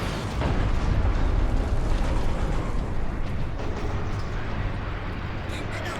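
A dense, continuous roar of shell fire and explosions from the Space Marine video game, loud and steady without a break, with no clear speech over it.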